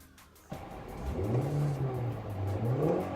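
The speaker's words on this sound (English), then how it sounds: "The high revving 2-liter." A 2018 Toyota C-HR XLE crossover's 2-liter four-cylinder engine, just under 140 horsepower, blips after a click, then revs up and holds a high, climbing drone with a slight dip and rise, close and clear with no talk.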